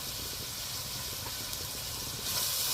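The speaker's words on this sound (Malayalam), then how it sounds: "ഈ സവാളയൊക്കെ നന്നായിട്ടൊന്ന് വഴണ്ടി വരട്ടെ." Sliced onions and green chilli sautéing in coconut oil in a pan, a steady broad hiss with faint crackle, close and continuous, no talk.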